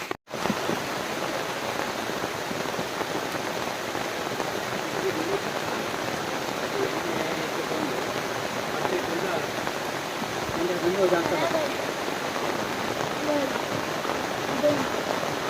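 Heavy rain pours steadily in a dense, even hiss, close and loud throughout, with faint voices under it now and then.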